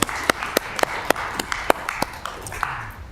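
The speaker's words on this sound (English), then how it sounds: "Yeah, let's give them a round of applause." A small group at a city council work session claps a short, sparse round of applause, with distinct separate claps in an uneven rhythm that fades out after about three seconds.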